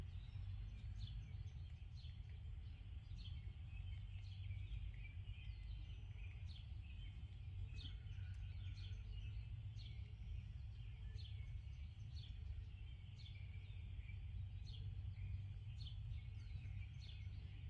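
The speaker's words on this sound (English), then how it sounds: "just sitting on our deck listening to the birds" Faint birds chirping and singing at a distance around bird feeders, heard from a camper deck, repeated short calls over a steady low outdoor hum.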